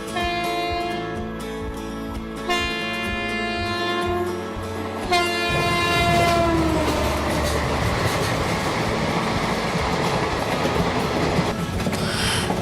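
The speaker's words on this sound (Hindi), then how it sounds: "ट्रेन चल चुकी है" A moving passenger train is heard from inside an AC sleeper coach: tonal horn blasts sound first, then a steady, loud rumble and rattle of the carriages fills the rest of the recording.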